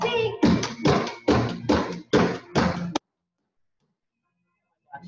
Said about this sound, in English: we're gonna slap and clap